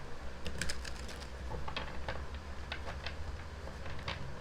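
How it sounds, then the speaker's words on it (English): A tarot card deck is shuffled in a quick run of light, crisp card flicks and ticks. The sound is close and soft, with no voices. "Alright, one more shuffle here."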